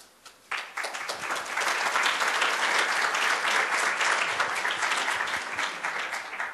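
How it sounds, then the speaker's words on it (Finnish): Audience applause breaks out at the end of a talk on a small-scale psychiatric model: a brief lull, then dense, steady clapping that swells and holds across the room for several seconds before easing slightly. "Melkein voisi antaa ekstra aplodit siitä, että hienosti vedit."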